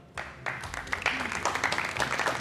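Studio audience applause on a Ramadan iftar quiz show, a dense patter of clapping that swells in after a brief pause and carries on steadily, moderately loud.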